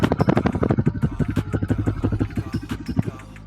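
A Honda Hornet motorcycle idles up close, its engine giving a rapid, even chugging pulse that thins out slightly toward the end.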